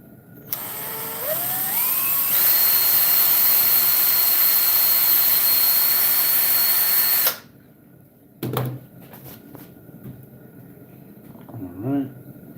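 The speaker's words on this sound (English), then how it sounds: "We are going to pre-drill that." A power drill whines loudly for several seconds, rising in pitch as it spins up while pre-drilling a screw hole, then stops; a few knocks and a brief voice follow.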